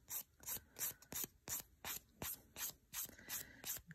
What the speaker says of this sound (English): Continue filing.